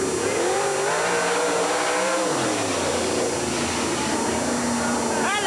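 Race car circling the Jacksonville Speedway oval during a 1992 event, its engine note rising and falling steadily and continuously under a commentator's talk, with a brief squeal near the end.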